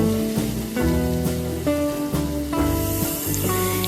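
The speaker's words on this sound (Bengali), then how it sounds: "কড়াইতে একটু তেল দিয়ে দিলাম, এবার কিন্তু এগুলোকে ভালোভাবে ভেজে নেব" Raw green banana pieces fry in oil in a wok, a steady close hiss and sizzle running continuously under tonal background music.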